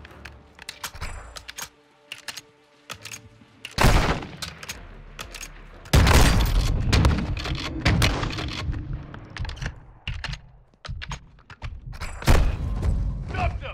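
Call of Duty Modern Warfare 2 gunfire: bursts of shots and sharp thumps scattered through a busy firefight, loudest near the middle and end, with other game noise around.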